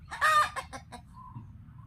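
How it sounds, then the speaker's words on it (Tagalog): A rooster crows once, fairly close, in a loud rising call that trails off, followed by faint clucking over a quiet background. "May ibon doon na nang gugulo. Ang ingay ng ibon, ha?"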